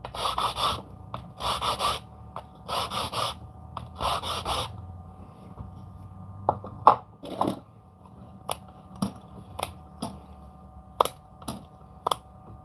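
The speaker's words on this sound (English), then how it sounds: "We sand our edges." Close sandpaper rubbing in four quick bursts of scraping strokes, then scattered light clicks and taps with quiet gaps.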